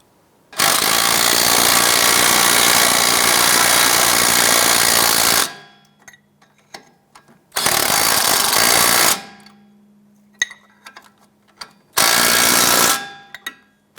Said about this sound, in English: go ahead and install the nuts on the strut bolts. And go ahead and snug those down.